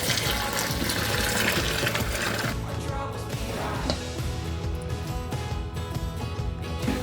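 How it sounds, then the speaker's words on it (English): A mixture of yeast and sugar poured into a bowl of bread dough containing water, milk and sourdough starter, a loud, continuous gushing liquid pour that shifts in texture partway and continues steadily to the end. "So now I'm going in there with a mixture of yeast and sugar."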